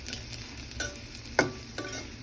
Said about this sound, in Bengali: নাড়াচাড়া করবো, সব মশলা তো এটার মধ্যে দেওয়া আছে